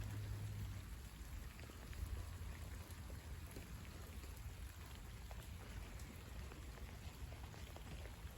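Light rain mixed with snow falls steadily outdoors during a winter gale, a soft continuous patter of drops on surfaces, close and even throughout, with no voices.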